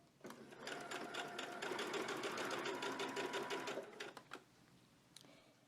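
A domestic sewing machine understitching the lining of a summer dress, running in one steady rapid burst of needle clatter for about four seconds, close and clear, then stopping with a few small clicks.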